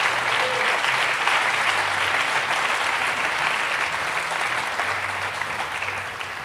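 Church congregation clapping loudly and continuously for the Lord during an evangelical service, a dense steady wash of many hands that tapers slightly near the end, with no voices over it.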